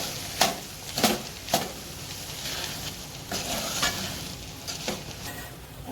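Ingredients fry in a pan while being stirred, a continuous sizzle broken by several loud scraping strokes of the spoon, close and unaccompanied by speech.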